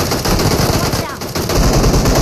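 Dense automatic gunfire in a BGMI battle-royale fight inside a school apartment building, loud continuous bursts with a brief dip midway, and a player's voice faintly under the shooting.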